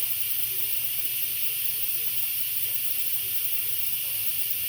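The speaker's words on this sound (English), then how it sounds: "If you guys are new to the Instant Pot, it's a little bit shocking when you first bring that steam out" An Instant Pot releasing steam, a steady loud high hiss that runs unbroken throughout, with a faint low hum underneath.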